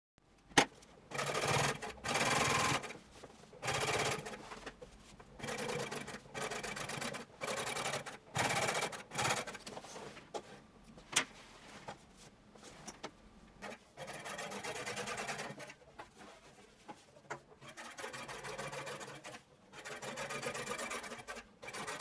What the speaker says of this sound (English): Double top stitch the top of the pocket.